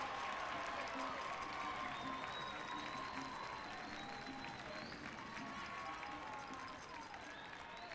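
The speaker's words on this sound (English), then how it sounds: "The crowd appreciating what they're seeing here" Stadium crowd applauding steadily at a Northern Super League women's soccer match between AFC Toronto and Halifax Tides, a broad wash of clapping heard from a distance alongside faint whistling tones, with no one speaking.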